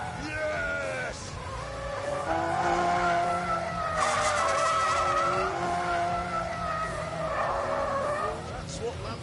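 A Lamborghini skids with loud, wavering tyre squeals and revving engine for several seconds, the squeal rising and falling as it slides.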